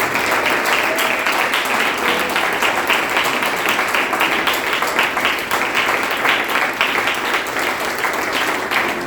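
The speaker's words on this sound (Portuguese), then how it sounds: "Dá uma salva de palmas para Deus" A church congregation gives a long round of applause at a worship service, dense, steady clapping throughout at full volume, with a few voices faintly underneath.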